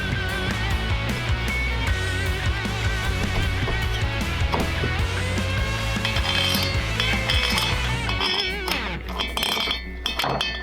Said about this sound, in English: Install the dowels and the head gasket and torque the head to 26 foot-pounds.